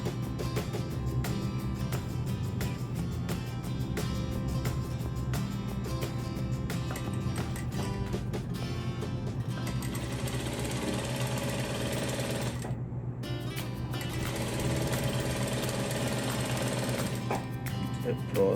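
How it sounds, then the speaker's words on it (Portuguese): A sewing machine runs in a fast, steady mechanical chatter while stitching a gray quilt strip, stopping briefly near the end before starting again, with a person talking over it. "vou passar uma costura até o final da minha faixa cinza"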